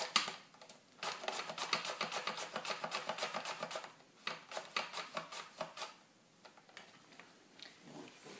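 Zucchini is sliced on a Japanese mandoline in quick, crisp, rhythmic strokes close by. A steady run of slicing is broken by short pauses, then sparser strokes trail off, with no talking.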